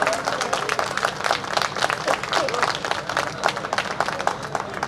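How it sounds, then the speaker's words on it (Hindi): A crowd at an event honouring soldiers claps loudly and continuously, dense applause filling the whole stretch with no break. "तालियों की गड़गड़ाहट कम नहीं होनी चाहिए"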